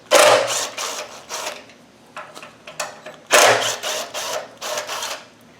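A power driver rattles Robertson screws out of a Land Rover Defender door skin in several short whirring bursts, near and loud, with brief pauses between each screw.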